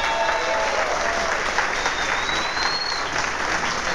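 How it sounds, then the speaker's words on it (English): Outdoor crowd at a picnic giving a round of applause for the performers Colors, steady sustained clapping and cheering at moderate distance, no speech over it. "Let's give colors a round of applause."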